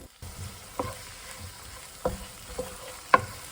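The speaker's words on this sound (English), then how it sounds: "Stir fry at mid-high heat." Ripe kimchi is stir-fried at mid-high heat, with a soft sizzle under a few separate scraping strokes from a spatula, the last one louder and sharper.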